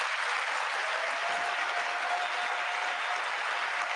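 Sustained audience applause fills the chamber during the State of the Union address, a dense, even wash of clapping that holds steady throughout with no pause.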